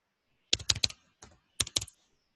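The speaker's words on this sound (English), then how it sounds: "typing it all" Fingers type on a computer keyboard while coding, two quick bursts of close, crisp keystrokes separated by a short pause and a couple of softer taps.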